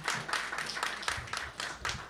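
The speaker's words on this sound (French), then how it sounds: "On les applaudit, on les accompagne en applaudissements." An audience at a live stage event claps in a brief burst of applause, with many hands clapping together in a dense, fairly close wash of sound.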